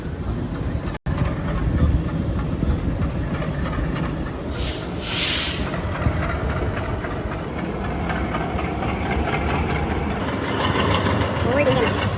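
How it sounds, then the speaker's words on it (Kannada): A train reversing slowly into a station creeps along with a low, steady rumble and engine drone, heard from on board the Karnataka Sampark Kranti Express amid background noise. "ರಿವರ್ಸ್ ಹೋಗ್ತಾ ಇರೋದು ಟ್ರೈನು."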